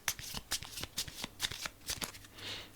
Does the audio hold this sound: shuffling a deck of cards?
yes